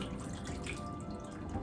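Water pours into an Instant Pot being filled for pork broth, a close, continuous splashing trickle with no talk over it.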